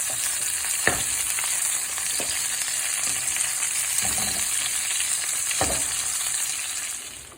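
Cheese fries in a hot pan with a steady close sizzle and crackle, broken by a few sharp scrapes and stirs of a utensil, with no voices.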